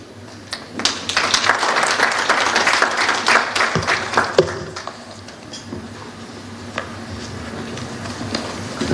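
Audience applause fills a hall at an East African Community post-budget dialogue on tax and debt, a dense burst of clapping that swells, holds for several seconds, then thins into scattered claps.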